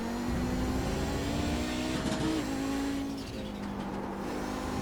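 A race car engine holds a steady, droning pitch during a road-course race at Road America, heard from a distance with a brief rise and dip in tone, no voices.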